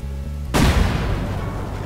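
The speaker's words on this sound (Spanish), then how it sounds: "así que probé con C4s" C4 charges detonate against a wall in the survival game Rust: a sudden loud boom with a deep low rumble, then a long roaring wash of debris and reverberation that fills the rest of the moment without fading.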